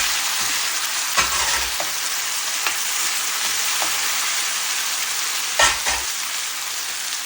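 Tomatoes fry and are stirred in a pan for an Indian-style asparagus and potato curry, giving a steady loud sizzle with a few sharper scraping stirs; no one talks.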